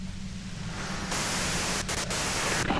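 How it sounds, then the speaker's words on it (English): Steady hiss of white-noise static from the Disco Elysium video game, loud and continuous, getting brighter and stronger partway through, with two brief dips near the end. "you can do it through the white noise"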